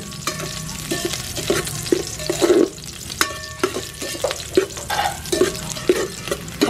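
Onions sautéing in a pan in a home kitchen, with steady close sizzling broken by repeated scraping and stirring strokes, alone and without talk.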